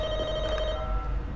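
A telephone rings in The Walking Dead video game, a steady electronic tone under low background hum, brief and fairly clear; no voices.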